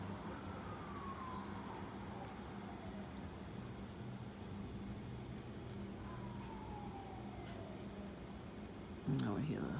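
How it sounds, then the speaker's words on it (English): An ambulance siren sounds at a distance as slow falling wails that drift under steady road and traffic noise, with a louder burst of sound near the end. "Now we hear the sirens. The ambulance."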